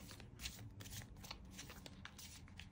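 A tarot deck handled during a card reading, heard as soft, close riffling and shuffling of cards in a quick continuous flutter, fairly quiet with no talking.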